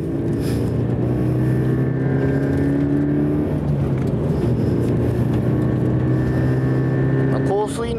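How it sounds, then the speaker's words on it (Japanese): Tuned car driving a lap of Maze circuit, engine droning loudly and steadily from inside the cabin, pitch rising and falling through gear changes, with a voice talking over it. "まずはコース紹介がてら、ヒロエさんにぐるっと一周走ってもらおう。"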